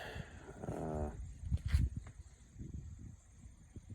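A dog resting outside in the sun near a driveway gives a short, close whine and whimper, followed by a few soft snuffling sounds against a quiet outdoor background.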